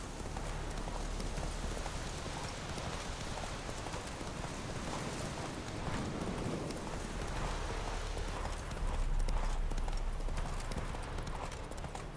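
Roach the horse galloping in The Witcher 3, a steady, rapid clip-clop of hooves carrying on throughout at moderate loudness, with a rain-like hiss in the background and no speech.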